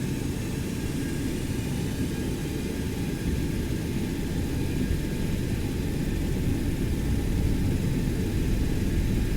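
Boeing 727 jet engines spooled up to takeoff power, a loud, constant roar with a faint high whine over it, unbroken and close for the whole stretch.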